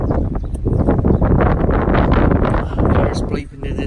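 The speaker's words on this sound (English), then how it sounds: "It's a bit windy today" Loud gusty wind buffeting the microphone outdoors on a snowy May day, rough low roaring that swells and dips over a few seconds.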